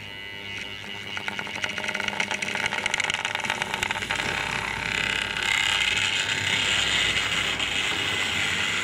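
A Tri-ang/Hornby Lord of the Isles single-wheeler model locomotive starts off and runs with a loud, continuous noisy mechanism, a steady gear and ratchet whirr and clatter close by with no talk.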